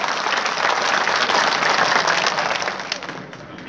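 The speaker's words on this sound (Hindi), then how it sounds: "जोरदार ताली बजाकर उनका अभिनंदन करें" A large crowd at a BJP political rally in Gohad breaks into loud, sustained applause and clapping that holds steady, then slowly thins out toward the end.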